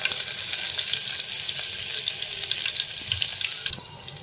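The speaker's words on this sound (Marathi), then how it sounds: "गरम झालेला आहे। आता आपण आलं लसूण पेस्ट टाकणार आहोत।" Ginger garlic paste sizzles loudly in a hot pan, a steady dense crackle with rapid spitting pops, close and continuous for the whole stretch, easing slightly at the very end.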